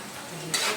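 Onion and garlic fry for pancit in a pan, a low stirring scrape followed by a sudden bright sizzle that rises to its peak and holds, close by with no talk.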